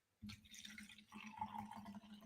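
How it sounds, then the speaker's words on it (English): A drink, likely tea, poured into a cup, a soft steady trickle lasting a couple of seconds that deepens slightly as the cup fills, close and quiet. "I'm sorry if you can hear me pouring my drink."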